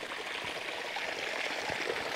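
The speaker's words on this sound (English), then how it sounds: "And we have running water." Steady broadband rush of running water from a nearby stream in Buskett Woodlands, Rabat, Malta, continuous and even throughout with no voices.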